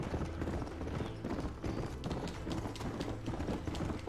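A horse gallops in the Xbox One game Red Dead Redemption, its hoofbeats a fast, steady, loud clip-clop running continuously under game ambience with no talking.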